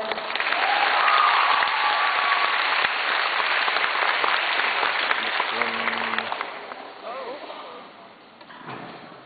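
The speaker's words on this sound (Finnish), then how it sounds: "Aplodit." Cosplay contest crowd applauds loudly as the next contestant is called to the stage, a dense sustained roar of clapping that thins and fades over several seconds while faint voices and stage sounds emerge beneath it.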